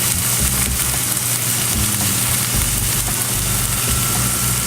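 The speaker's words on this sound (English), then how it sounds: "We're gonna add some tomatoes. We're gonna let that simmer." Tomato sauce simmering in a pan gives a low, steady bubbling sizzle with a faint background hum, continuous and close throughout, with no talking.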